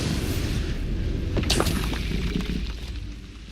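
In the Hogwarts Legacy video game, a Bombarda blasting spell goes off as a deep booming blast with a sharp shattering crack near the middle, over a dense rumbling background, loud and close.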